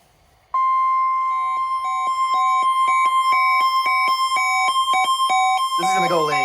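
Emergency Alert System tones play loud and close. A sustained two-tone alert runs with rhythmic pulsing, then gives way to a burst of harsh noise at the end.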